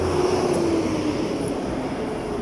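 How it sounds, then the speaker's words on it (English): A loud bus passes on a city street, its heavy engine drone filling the clip with a steady roar and a slight falling pitch as it moves by, with no talking. "buses are really loud"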